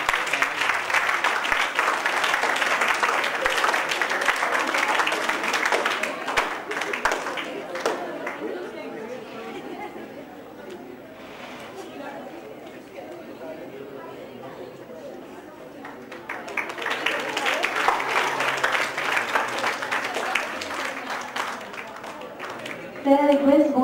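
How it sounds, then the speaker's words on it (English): Audience applause at a technical session on computer graphics and AI, honoring a guest on stage: a long burst of dense clapping that dies into murmuring chatter, then swells again near the end. "Let's have a very huge round of applause for Bhaskar sir."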